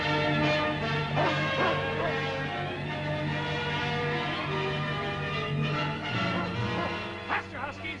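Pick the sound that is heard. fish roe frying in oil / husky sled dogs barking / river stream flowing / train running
husky sled dogs barking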